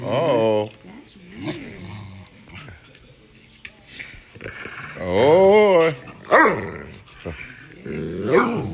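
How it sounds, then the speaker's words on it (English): A standard poodle in Sun Valley, Idaho gives a few short, close barks and growly yips in separate bursts, mixed in with someone talking nearby. "Why are you barking?"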